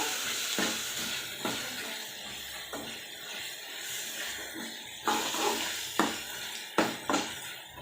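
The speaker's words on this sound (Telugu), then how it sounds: "ఆనియన్ వేగే లోపల మనం అల్లం పేస్ట్ వేసుకొని అల్లం పేస్ట్ కూడా వేగిన తర్వాత టమాటో వేసుకొని మనం అలా ఫ్రై చేసుకోవచ్చు." Onion, ginger paste and tomato fry in a pan as a spoon stirs them, giving a steady close sizzle broken by occasional scraping clinks against the pan.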